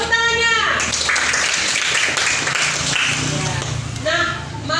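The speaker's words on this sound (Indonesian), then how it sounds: "Tepuk tangannya." Children in a classroom clap their hands together in a brief burst of applause, mixed with a voice and lively classroom noise.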